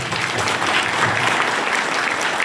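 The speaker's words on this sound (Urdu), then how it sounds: "ایک مرتبہ ان ماؤں کے لیے تالیاں بجائیں" An audience at a school felicitation program claps steadily for the mothers, a dense, even burst of applause that fills the whole moment with no talk.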